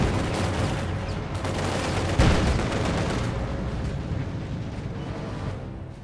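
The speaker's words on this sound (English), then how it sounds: "We are taking infantry fire." Dense, continuous gunfire and explosions of battling infantry in Company of Heroes 2, a loud steady barrage with a heavier blast partway through.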